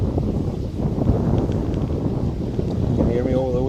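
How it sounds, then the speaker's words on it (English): Strong wind buffets the microphone outdoors on a riverside walk, a constant low roar filling the whole stretch, with a voice speaking faintly through it near the end. "Can you hear me over the wind?"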